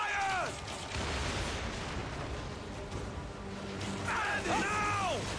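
Cannon fire in the video game Assassin's Creed Origins: a continuous broadband roar of booming shots fills the whole stretch, with shouting voices near the start and again toward the end.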